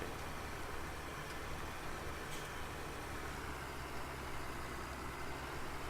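The 8410 tractor in Farming Simulator 17 runs at a low, steady idle, a continuous engine drone with a faint rumble that holds even throughout.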